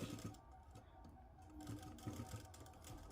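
Sewing machine stitching a Punjabi dress along marked lines, a close rapid mechanical chatter running in short bursts with brief pauses, no voices.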